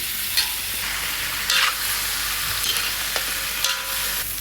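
Pork ribs with chili flakes sizzle in a hot pan while a utensil stirs and scrapes through them in a few distinct strokes over steady frying hiss, no talking.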